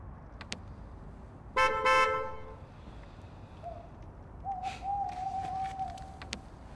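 A taxi pulls up outside a farmstead and gives short horn toots, the first a loud double honk, followed by quieter tonal beeps and faint rumbling over a low ambient background.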